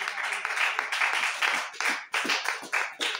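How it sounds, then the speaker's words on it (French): A church congregation applauding at an apostolic holiness service, with uneven bursts of hand clapping in a rhythmic pulse, moderately near, with a faint voice underneath at times. "Applaudissez une fois encore pour lui."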